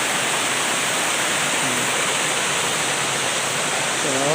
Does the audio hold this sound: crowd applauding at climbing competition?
no